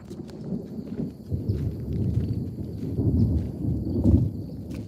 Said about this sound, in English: it's thundering pretty good here